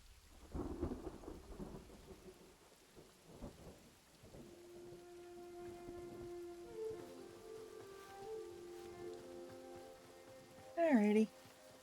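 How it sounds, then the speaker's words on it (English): Steady rain falls in the Hytale video game while thunder rumbles in low bursts early on. A faint game tone runs through the middle, and a brief sharp cry near the end rises above the storm. "And now it's raining."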